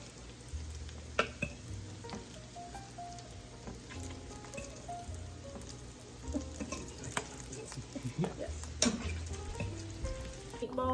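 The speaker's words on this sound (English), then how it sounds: "Gonna let that simmer." Cooked ground-beef meatballs simmering in sauce in a pot, a soft steady bubbling and gentle sizzle with scattered small pops and clinks, fairly quiet throughout.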